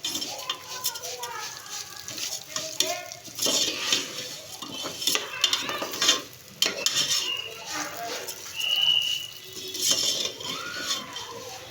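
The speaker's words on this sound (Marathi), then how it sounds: "आता हे सगळे ह्याच्यामध्ये भाजून घेऊ." Ingredients roasted in a pan in a home kitchen, with repeated close scraping and clinking of a spoon stirring against the metal, faint sizzling underneath and someone speaking over it.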